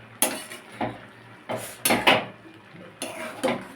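Spinach and vegetables being turned over in a covered pot with no added water, a metal utensil clinking and scraping against the pot in several separate bursts, moderately loud and close.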